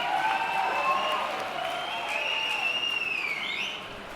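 An audience at the 7th Asian Awards ceremony breaks into sustained, full-room applause that holds steady for several seconds, with a few whistles cutting through before it eases off slightly at the end.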